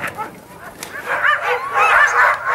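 Sled dogs at a Yukon Quest checkpoint yip, whimper and bark excitedly in a close, continuous chorus of high-pitched cries that grows louder after the first second.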